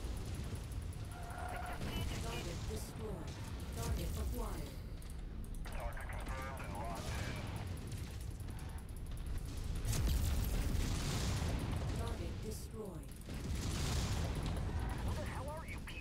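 Weapons fire in a mech combat game: dense rapid bursts, explosions and mechanical clatter run almost nonstop at high volume, swelling around the middle and toward the end.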